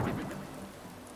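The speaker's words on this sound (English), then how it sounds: "it's raining, kind of ruining the vibes a little bit" Soft, steady rainfall patters continuously through the quiet Animal Crossing game world, a gentle even hiss with no voices over it.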